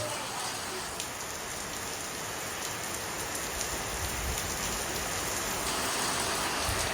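Steady rain pouring down in a dense, even hiss, with a faint high electronic whine running through much of it.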